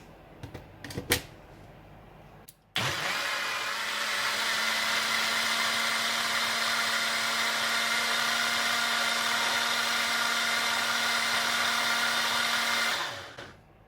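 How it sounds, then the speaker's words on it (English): A blender whirs steadily for about ten seconds, mixing low carb crepe batter, loud and close with a constant hum, preceded by a few knocks and ending as the motor winds down. "Now just go ahead and blend it together well."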